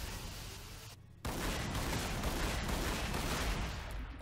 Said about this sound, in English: That is some loud firing.